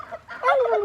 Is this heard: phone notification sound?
no